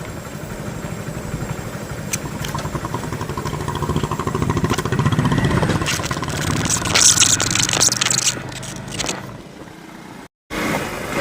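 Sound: motorcycle riding on road

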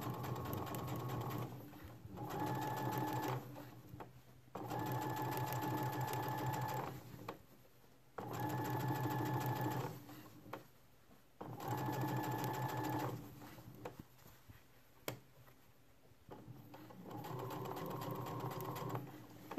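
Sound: sewing machine sewing bias tape on shorts

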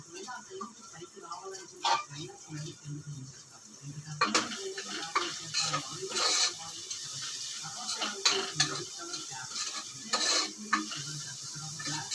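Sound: onions frying and being stirred in a pan

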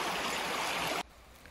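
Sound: babbling brook near Zakopane, Poland

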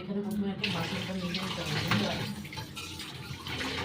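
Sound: washing dishes under running tap water

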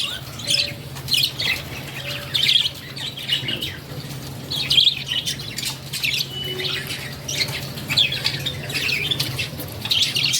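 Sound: caged birds chirping while male bird feeds chick

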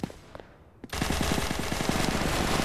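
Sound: shotgun fire in Roblox video game

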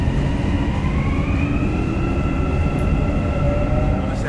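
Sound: Dubai Metro train running

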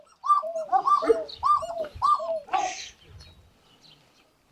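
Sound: Sivas doves cooing

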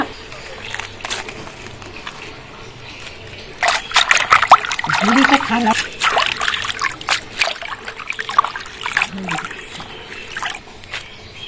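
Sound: washing helencha greens in water

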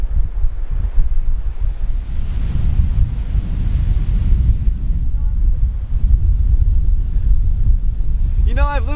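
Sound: ocean waves on the shore

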